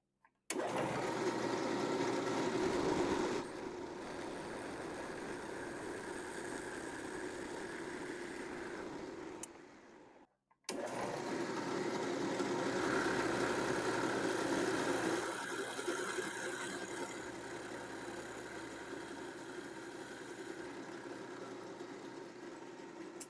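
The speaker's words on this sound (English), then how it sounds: "to drill this hole, I'm using a 5/8 inch Forstner bit" A 5/8 inch Forstner bit in a motor-driven drill bores a hole in the wooden tote of a Stanley plane, giving a continuous steady whine that drops away briefly in a short pause and then resumes for a long run.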